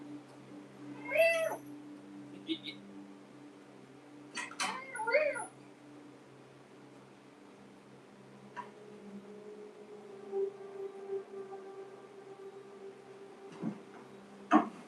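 A small fluffy cat in the TV series Silo meows in a few short calls, the loudest near the start and another pair a few seconds later, over a low steady room hum with faint ticking.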